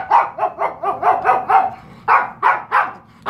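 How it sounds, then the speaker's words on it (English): A small dog barks in a quick series of about ten sharp, close yappy barks, a rapid run followed by a short pause and three more barks, with no talking over them. "Look how Maggie goes back and forth from watching TV to looking at him barking at him"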